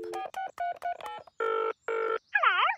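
A cartoon telephone being dialed to call for help after a car breakdown, a quick run of short electronic keypad beeps followed by two long buzzing rings and a warbling tone, clear and close.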